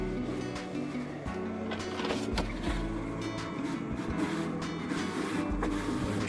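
A vinyl cutting machine works through a logo, with a steady mechanical whir and repeated motor pulses, short sliding strokes and clicks recurring at an uneven rhythm, close and fairly constant.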